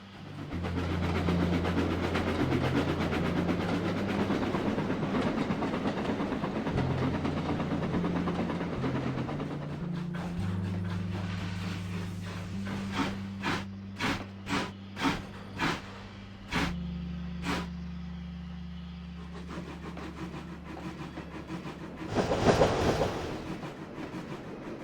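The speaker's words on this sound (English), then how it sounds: "I have to head out with a passenger train" A passenger train runs along the railway on the Island of Sodor, its steady rumble accompanied by a run of sharp rhythmic clanks midway and a brief hiss near the end, with no talking.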